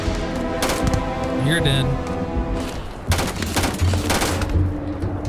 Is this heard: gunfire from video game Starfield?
yes